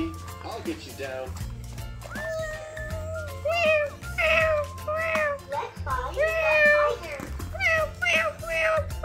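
A kitten stuck high in a tall tree during a toy animal rescue play scene gives repeated rising meows over background music, with talk around it.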